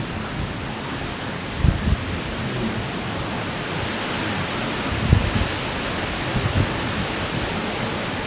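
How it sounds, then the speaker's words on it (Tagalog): Strong wind roars during a severe thunderstorm, a steady broad rush with a few brief low thumps of gusts, no voices present. "Ay, lakas ng hangin."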